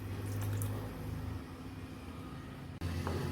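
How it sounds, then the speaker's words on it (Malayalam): Jaggery syrup is poured into boiling coconut milk for banana payasam, a steady liquid pour over a constant bubbling simmer, briefly broken by a sharp dropout before the flow resumes. "ഇനി ഇതിലേക്ക് നമുക്ക് ശർക്കര പാനി ഒഴിച്ചു കൊടുക്കാം."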